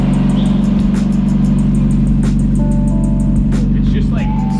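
A 1.8-litre Mazda Miata with ISR exhaust and 236,000 miles idles after a cold start, giving a loud, steady, throbbing drone close up with no gaps. Someone talks over it.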